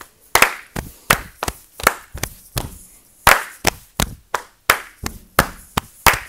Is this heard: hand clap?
yes